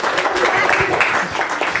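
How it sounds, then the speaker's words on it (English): Audience applause at a Secular Sunday Celebration gathering, a steady crackle of many clapping hands filling the room for a couple of seconds, with a voice or two briefly audible beneath it. "A round of applause for the magnets."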